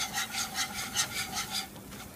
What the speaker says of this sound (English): Your roux is beginning to dry out, so just stir and scrape.